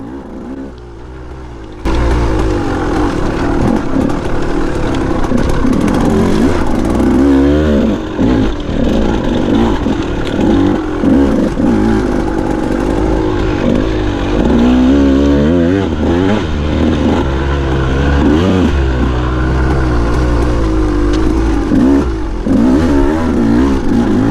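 Motorcycle ridden over rough trail ground, its engine loud and close, revving and easing off repeatedly through the whole stretch with rattling clatter from the bumps and no talk.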